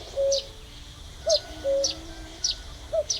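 A cuckoo repeats its low, hollow two-note call several times at moderate distance, while smaller birds chirp brightly overhead between the calls.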